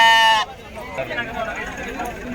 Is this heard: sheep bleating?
yes